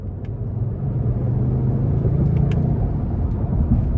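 Lincoln Navigator Reserve's 3.5-litre twin-turbo V6 pulls hard as the SUV accelerates onto an interstate, a steady, loud low engine rumble with road roar building continuously from inside the cabin.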